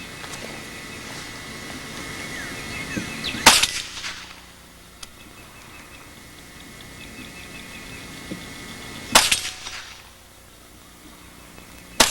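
A compact rifle with a short barrel and a Burris scope fires two sharp, loud shots about six seconds apart outdoors, with quiet background between them.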